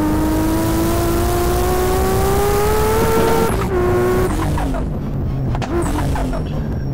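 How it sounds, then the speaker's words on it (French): A Toyota Supra engine in a video game revs up steadily and loudly, then drops sharply at a gear change and climbs again, with a whining, harmonic tone. "il y avait quand même pas mal de détails sur le son du moteur."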